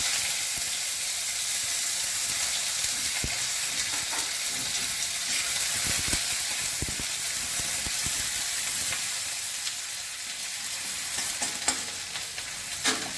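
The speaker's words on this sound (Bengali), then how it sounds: "পেঁয়াজটা একটু ভাজা হবে।" Chopped onions fry in a pan with panch phoron and minced garlic for a masoor dal with jute leaves, a loud, steady close sizzle broken now and then by the scrape of stirring.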